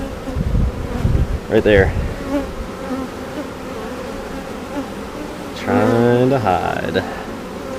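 Honeybees buzz steadily inside an open hive during a beekeeper's inspection, a close droning hum that runs under brief speech from a person.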